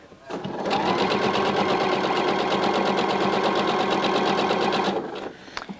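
A sewing machine runs in one steady, loud burst of rapid stitching for about four and a half seconds while sewing the side seam of a skirt, with short pauses before and after.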